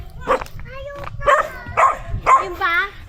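A dog barks and yips repeatedly on a rural family visit in Ballesteros, Cagayan Valley, several loud close barks with whiny tones, people talking faintly in between.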